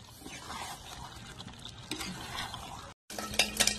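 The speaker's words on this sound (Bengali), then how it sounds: "গরম মশলা দিয়ে নাড়াচাড়া করে ঢাকা দিয়ে দেবো।" Green chicken curry with garam masala is stirred in a pan, giving near, uneven scraping and soft sizzling with a brief gap and a few sharper clinks at the end.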